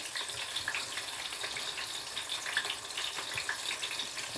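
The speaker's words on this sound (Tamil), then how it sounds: "அகப்பே இந்த பின்பக்கத்தால் இப்படி மெதுவாக கீழே மட்டும் அடி கொடுத்து கிளறி விடுங்க மெதுவாக" Tomato rice is stirred in a pot, the back of a ladle gently working the bottom, producing soft scraping and bubbling over a low steady hiss, close by with no talking.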